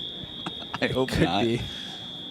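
An electronic buzzer alarm on a gate door at a beach club sounds as a steady, shrill, unbroken tone throughout while people talk over it.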